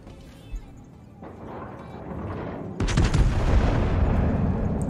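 Main guns of the battleship Iowa firing in World of Warships, a rising rumble that breaks into a heavy booming salvo about midway, the roar sustaining loudly to the end.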